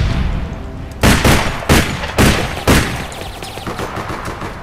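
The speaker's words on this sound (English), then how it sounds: "That guy has a cool sounding gun." Gunfire in the online game APB: four or five loud, sharp bursts spaced about half a second apart, ringing over a steady background of game noise.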